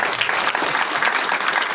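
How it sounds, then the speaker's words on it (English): A room of attendees at a business networking event gives a brisk round of applause for the organiser, dense close clapping for a couple of seconds. "give this guy a round of applause."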